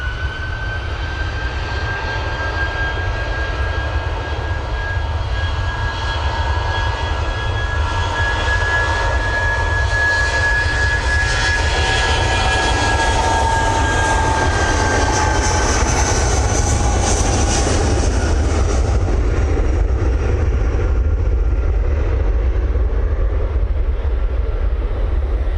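A jet airliner takes off bound for London Heathrow, a loud continuous engine roar with rising whine that swells and fades over the whole stretch, heard alone.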